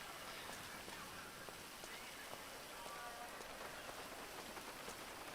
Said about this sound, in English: The rain looks like real rain.